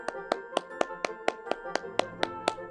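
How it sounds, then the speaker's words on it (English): Preschool children clap their hands while playing Simon Says: about a dozen crisp, evenly spaced claps in a quick, steady rhythm, close by with no talking over them. "Simon Says, clap your hands."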